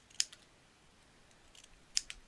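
Scissors trim small paper wings off a scrapbook album corner pocket with two sharp, crisp snips about two seconds apart in a quiet room.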